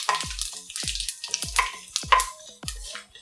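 Cloves, bay leaf and shahjeera frying in a pan for cashew paneer rice, with a steady rhythm of stirring strokes about every half second over a soft close sizzle, no talking.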